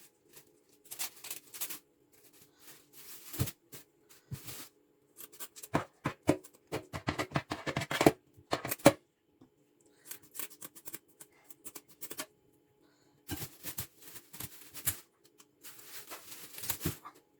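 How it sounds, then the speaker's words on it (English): Kitchen scissors snip and crunch through a dorado fish while its unwanted parts are trimmed off. The cuts come close up in irregular bursts of sharp clicks, with quiet gaps between them. "Remove unwanted parts with kitchen scissors."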